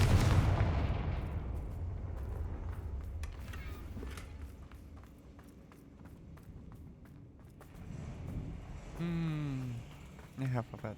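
Confringo fire spell blasts in the Hogwarts Legacy video game, with a loud booming burst at the start that fades into rumbling, followed by scattered impacts and footsteps, and a voice briefly speaking near the end.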